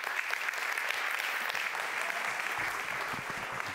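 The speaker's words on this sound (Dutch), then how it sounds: "Mag ik applaus voor Thijs?" Studio audience applause on a Dutch television programme, a fairly soft but sustained patter of clapping from a crowd, steady throughout with a few louder claps near the end.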